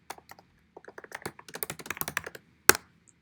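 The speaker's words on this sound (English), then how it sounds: "I'm getting a lot better at typing on screen." Taps on an on-screen keyboard come as quick, light clicks in uneven bursts, close and clear, building into a denser run before one sharper tap near the end.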